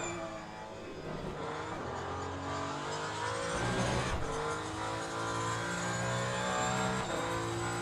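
Hypercar engine in the racing sim Le Mans Ultimate drones and revs steadily, rising and shifting pitch through gear changes, a continuous fairly loud in-car engine tone with no talking.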